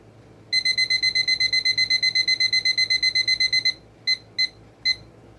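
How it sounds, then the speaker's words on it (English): A kitchen timer set while making homemade lasagna sounds off with a rapid, steady run of loud, close, high electronic beeps, then stops and gives three separate short beeps, with no talking. "We're going to get our timer out"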